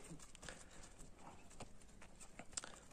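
A horse walks on a Kyrgyz village road, its hooves clip-clopping in a steady, fairly faint rhythm with a few sharper knocks, a soft voice now and then in the background.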